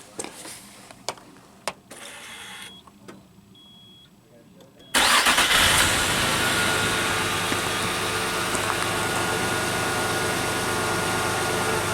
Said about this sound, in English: Let's look at this again while we're cranking.